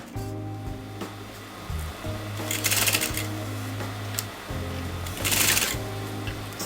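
A sewing machine stitches piping onto a kurta neckline, running in steady bursts with a low motor hum and brief pauses as the fabric is fed little by little.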